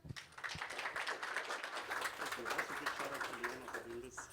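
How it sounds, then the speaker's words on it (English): A conference audience at a security and privacy symposium gives a round of applause for the presenters, a soft, scattered clapping of many hands lasting a few seconds, with talking over it. "let's have a round of applause to them"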